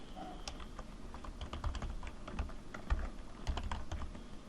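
Light, quick keystrokes on a computer keyboard as a session name is entered, a close, quiet run of irregular clicks with short pauses and no talking.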